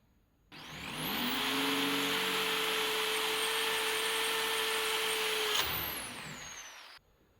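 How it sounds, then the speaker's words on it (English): A power drill whirs up, drilling holes in steel for knife serrations, holds a steady, loud grinding whine for several seconds, then winds down and stops. "And now I'm drilling the holes for the serrations"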